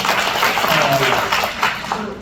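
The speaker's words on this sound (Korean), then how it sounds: "박수 한번 또 부탁드리겠습니다" An audience at an economics lecture claps in a short, fairly dense burst of applause that tapers slightly toward the end.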